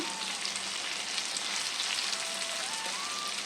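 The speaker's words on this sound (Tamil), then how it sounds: "கொஞ்சம் நேரம் இந்த எள்ளும் வேர்க்கடலையும் இந்த கத்திரிக்காயோட சேர்ந்து நல்லா வதங்கட்டும்" Brinjal frying in oil with ground roasted sesame and peanut powder for a brinjal gravy, giving a steady, dense sizzle that holds evenly throughout, close by with no talk.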